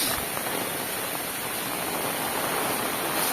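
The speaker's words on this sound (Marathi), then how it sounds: "पाऊस बघा काय पडतो एकदम बेकार" Heavy monsoon rain pours steadily in the Konkan countryside, a dense, even hiss that fills the whole clip without pause, close and loud with no voices.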